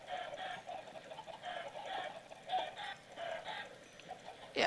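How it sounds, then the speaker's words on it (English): A flock of chickens clucks repeatedly in Minecraft, overlapping bursts of clucking in an irregular rhythm at moderate loudness, without speech. "as you can see here, all these chickens are getting quite annoying, right?"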